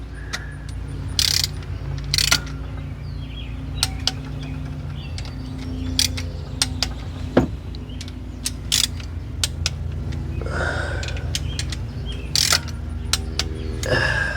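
Creaks and sharp clicks from a torque wrench tightening 6mm bolts on a Ford F150 2V engine during head gasket and timing chain work, scattered uneven ratchet clicks over a low steady hum.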